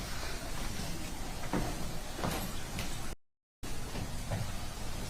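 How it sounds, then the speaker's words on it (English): A courtroom door swings open at a murder trial's sentencing-phase verdict, a soft rolling slide and a few muffled knocks buried in steady broadband room hiss, broken by a brief dropout. "Let's see if they open the door."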